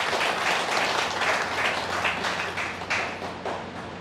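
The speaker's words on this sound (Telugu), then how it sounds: "సో ఒకసారి మీకు మీరు గట్టిగా క్లాప్స్" Audience at a Telugu gathering of Pyramid meditation masters claps loudly and steadily, a dense continuous applause with slight swells that fades a little near the end.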